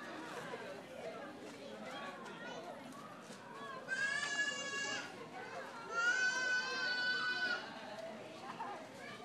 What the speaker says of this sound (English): Emily, you like the goats? You gonna go pet them?